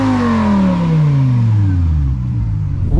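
A BMW M6 with a 507-horsepower V10 engine sounds loud and close, its high-pitched rev sweeping smoothly downward as the engine winds back toward idle.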